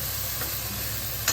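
Spice paste fries in oil in a pan with a soft, steady hiss, a faint stir near the middle and a brief louder scrape near the end, with no voices.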